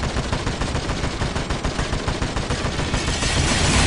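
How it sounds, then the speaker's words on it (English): Dense, continuous gunfire in the strategy game Dawn of War: Dark Crusade, rapid overlapping machine-gun bursts and shots forming a loud, unbroken battle clatter with no talk. "We are taking fire!"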